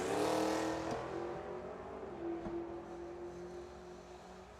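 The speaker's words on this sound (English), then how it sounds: "Haley Bopp with that Corvette." A Corvette at a drag strip makes a sustained engine roar that fades slightly as it runs down the track, loud at first and then settling into a steady drone.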